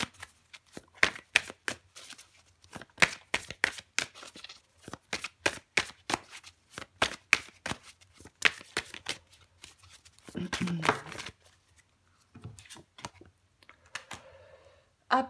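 Tarot cards being shuffled and drawn produce a run of quick, sharp card slaps and riffles, close and crisp, while someone talks quietly in between.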